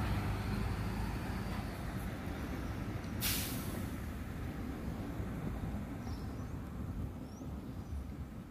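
An intercity bus pulls into the Recife bus station with a steady, low engine rumble, broken by one sharp hiss of air brakes partway through, with no talking.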